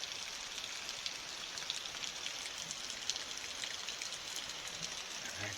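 Steady rain falls on a homestead where goats forage, a soft even hiss of drops with faint scattered patters, continuous and fairly quiet with no talking.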